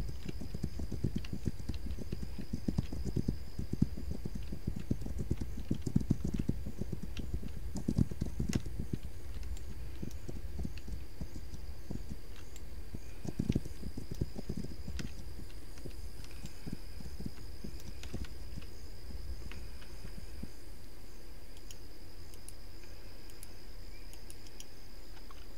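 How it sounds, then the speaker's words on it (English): Horse hooves clip-clop in the game This Land Is My Land, a steady run of close, moderate hoofbeats that thins out after the first fifteen seconds over a constant background hum. "Definitely gotta be careful with my horse,"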